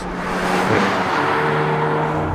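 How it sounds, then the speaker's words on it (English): A 2018 Hyundai i30 N hot hatch driven fast on the Vallelunga circuit, a loud sustained engine roar from inside the car with a shifting tone as it pulls past 200 km/h on the straight. "The engine is a real gem, pulling us past 200 k's on the front straight"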